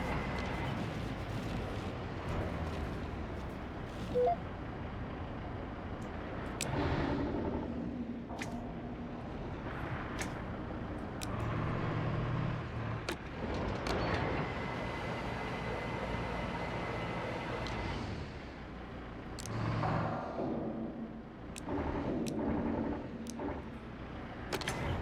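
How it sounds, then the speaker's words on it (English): Heavy truck engine from the game Docked rumbles continuously at moderate volume, with deep droning and occasional clanks and thuds rising and falling over about twenty-five seconds. "I love this truck's noise"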